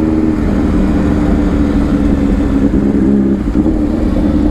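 A Kawasaki Ninja H2R motorcycle engine drones loud and steady while riding, with a continuous deep, throaty roar and heavy wind rush throughout.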